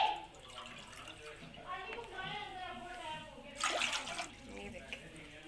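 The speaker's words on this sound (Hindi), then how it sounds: "ये मैं पानी डाल रही हूँ, ये वाले 3 गिलास में पानी का डालूंगी।" Water is poured into a pan for semolina halwa, a steady splashing pour that runs for several seconds with a brief louder burst near the end, heard alongside someone speaking.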